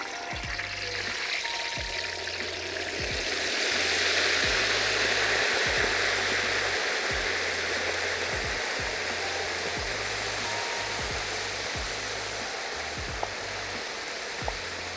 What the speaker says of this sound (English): that's just the moisture that was on this turkey hitting that grease